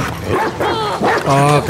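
A dog in the video game The Last of Us Part II barks and yelps in loud, repeated bursts close by, with whimpering tones mixed in.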